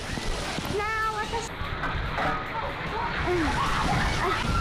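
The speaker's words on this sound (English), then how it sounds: "this one's pretty cool. It shoots up water." Water sloshes and splashes from a spray play feature at a Jellystone Park campground in Golden Valley, North Carolina, a continuous moderate wash with children's voices and chatter rising over it.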